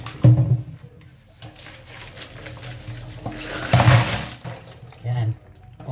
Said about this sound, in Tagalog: We're done washing our muscles thoroughly, properly.